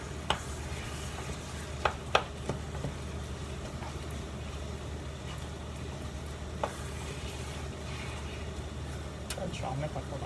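Three pounds of seasoned ground meat cook in a pot for a spicy pasta sauce, a low sizzle with occasional stirring clinks and scrapes while someone talks throughout.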